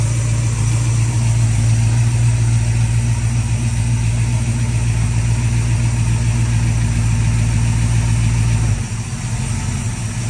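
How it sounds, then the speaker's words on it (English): A Ford 302 V8 idles loudly and steadily with a deep, even rumble, up close, then its tone dips slightly near the end as the idle settles. "So we'll start it up, adjust the idle, stop, adjust the idle again"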